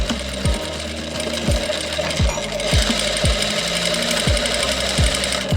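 A sewing machine stitches a seam joining the pocket cut on a circular palazzo, chattering in a fast rhythmic clatter with repeated heavy thumps, loud and close and running almost without pause.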